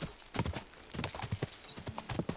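Horse hooves clip-clop steadily in Kingdom Come: Deliverance as the horse travels a rough route toward a camp, an even, close walking rhythm with no talk over it.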